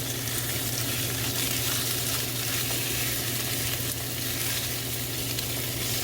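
Meat frying in a pan for chop suey gives a steady, close, loud sizzle that holds evenly throughout with no talk.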